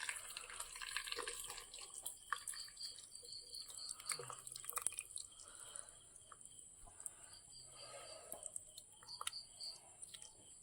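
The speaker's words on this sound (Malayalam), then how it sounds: "വെള്ളം ഒഴിക്കുക. ഞാൻ കൈവച്ചാണ് ഇപ്പോൾ ഒഴിക്കുന്നത്." Vinegar-soaked tamarind water being poured by hand, with soft trickling and dripping splashes through steady faint kitchen background noise, no talking.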